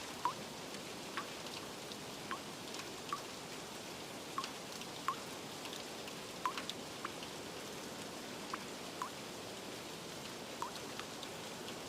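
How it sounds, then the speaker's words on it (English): Rain beats down steadily as a sound effect for a children's story reading, a soft, even hiss dotted with faint drop ticks, with no voice over it. "A spider watches and waits as the rain beats down."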